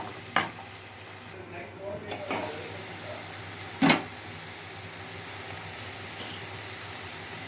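Onions and cauliflower fry quietly in a pan, with a few sharp stirring scrapes and clatters standing out over a low sizzle.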